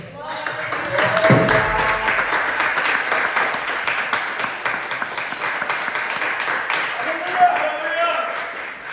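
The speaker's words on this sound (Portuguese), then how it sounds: "Pode se sentar com uma salva de palmas para Jesus." A church congregation claps in a steady, dense wash of applause that carries on for several seconds, fairly loud and close, with a voice speaking over it.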